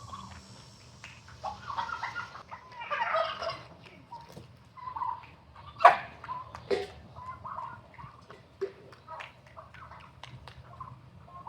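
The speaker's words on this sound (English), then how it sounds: "We have chickens." Chickens cluck and gobble in scattered bursts, with one sharper call standing out near the middle against a quiet background.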